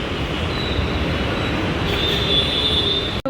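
A metro train runs through a metro station with a loud, steady rolling roar and a thin high wheel squeal drawn out over it, sustained close up without speech until a sudden cut.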